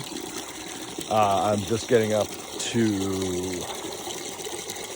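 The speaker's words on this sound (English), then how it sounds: "filling buckets, my winter pastime" Water runs steadily into buckets outdoors on a cold spring morning, a continuous splashing rush beneath a person talking briefly nearby.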